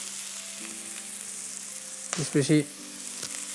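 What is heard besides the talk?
stir-frying onion and capsicum for chilli chips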